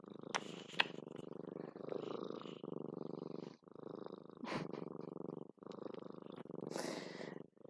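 A cat purrs steadily and close, in soft rhythmic pulses with brief pauses between breaths, a few faint rustles mixed in.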